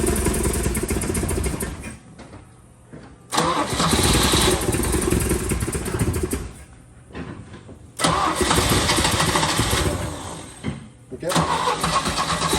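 Engine of a 1975 Chevy Vega Cosworth Twin Cam, abandoned for about 20 years, cranking and catching in repeated loud bursts that rev and die between quieter gaps, with brief talk nearby.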